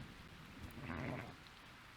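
Rain falls steadily in the video game Zelda: Tears of the Kingdom, a soft continuous hiss with a slight swell in the middle, heard alone.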